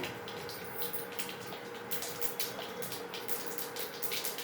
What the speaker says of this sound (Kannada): ಇವಾಗ ಸಾಸಿವೆ ಹಾಕ್ತೀನಿ. ಎಣ್ಣೆ ಕಾದಿದೆ.